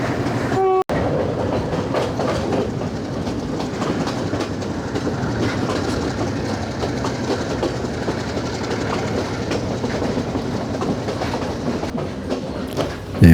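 A passenger train on Sri Lanka's mountain railway rumbles through a tunnel, a loud, enclosed, continuous roar with rhythmic clickety-clack of wheels on rail joints and a brief sharp jolt near the start.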